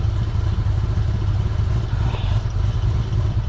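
A 2017 Chevy SS engine running hot after a radiator replacement, a steady throbbing idle with a low rumble and light mechanical clatter, close and loud, with no speech.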